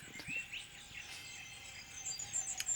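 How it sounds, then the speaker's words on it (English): Faint outdoor ambience at an Australian lake, with scattered high bird chirps and insect-like trills over a soft, steady background hiss. "It's like just sounds of the Australian birds. I recorded this at a lake."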